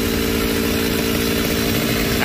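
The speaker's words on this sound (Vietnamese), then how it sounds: "Anh cưa hai cái đọt cây để anh chêm hai bên cho nó đừng có tưng qua mấy cái cây giống á" A chainsaw cuts the tops off a tall tree, its engine running at a steady loud high whine close by, with no pauses or talk.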